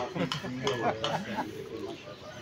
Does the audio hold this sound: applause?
no